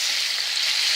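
Pork frying in a pan, a steady, loud, hissing sizzle with no break and no voices.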